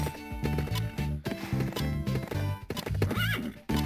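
Horse whinnying repeatedly over clip-clopping hooves in the horse-riding game Bibi & Tina: Jump & Ride, close and clear in short bursts, with game music tones around it and no speech.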